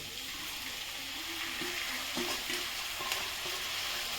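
Bathua greens tossed into a hot frying pan give a steady, close hiss of frying with a few soft stirring scrapes, with no talk.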